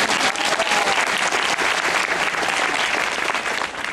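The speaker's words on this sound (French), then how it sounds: "L'applaudissemble va taper ses mains l'une contre l'autre pour faire le plus de bruit possible" A studio audience claps hands together as hard as it can, a dense, steady wash of applause that holds loud and even from start to finish with no voices on top.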